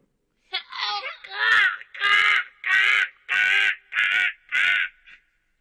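In a children's story, a voice imitates a crow cawing seven times in a row. The loud, evenly spaced, drawn-out caws run alone with no other talk.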